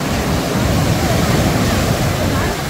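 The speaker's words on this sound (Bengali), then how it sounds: "উপভোগ করতে পারবেন উত্তাল ঢেউয়ের গর্জন" Rough ocean surf roaring at Puri beach, a dense, steady, loud wash of breaking waves with wind noise and no distinct pauses.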